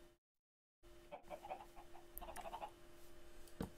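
Chickens in the video game Minecraft give a quick run of soft clucks and chirps after a brief silence, scattered and fairly faint against a low steady hum.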